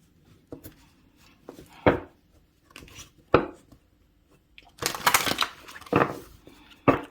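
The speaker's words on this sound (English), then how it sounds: "Just giving this deck a bit of a shuffle." Playing cards are handled and shuffled close up: scattered sharp snaps, then a quick dense riffle and a few more taps, in a quiet room.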